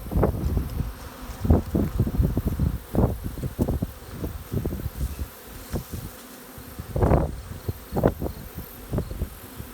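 A dense, steady hum of honeybees crowded together beneath a bee escape in a hive, with buzzing swelling and fading close by under light rustling.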